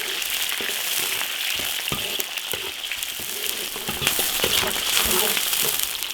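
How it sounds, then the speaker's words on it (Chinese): Scallion, ginger, garlic and onion stir-fry in hot oil in an iron wok, with a continuous loud crackling sizzle and scattered spatula scrapes and taps throughout. "葱姜蒜洋葱，慢慢把它的香味炒出来"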